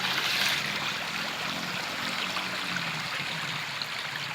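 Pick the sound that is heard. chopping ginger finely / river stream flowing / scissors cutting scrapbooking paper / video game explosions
river stream flowing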